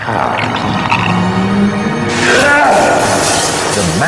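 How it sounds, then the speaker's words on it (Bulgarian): In a Bulgarian audio telling of The Snow Queen, a mirror breaks into many pieces, a broad, bright crash swelling about halfway through and continuing beneath a speaking voice and a busy backdrop. "Строшил го на стотици милиони мънички парченца."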